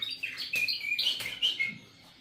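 A small cage bird, a breeding male kept for crossing with hens, gives a string of quick, bright chirps and short twittering notes, fairly close but soft, with brief gaps between phrases.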